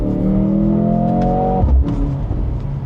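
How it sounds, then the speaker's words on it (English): A 2025 Mercedes-AMG GLC 63 S E-Performance SUV's 671 hp four-cylinder engine revs hard with a rising drone, then drops into a deep rumbling exhaust burble and crackle, loud and close. "The bass note from that exhaust, it just punches you right in the back."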